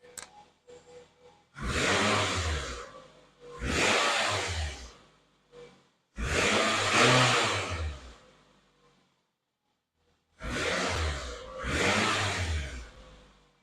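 A car engine in a garage, just fitted with new spark plugs and coil packs, is run in four strong rev bursts separated by quieter idle gaps, loud and near.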